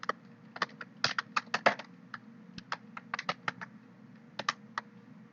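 Typing code on a computer keyboard, a close run of crisp key clicks in irregular bursts and pauses, alone without speech over a low steady hum.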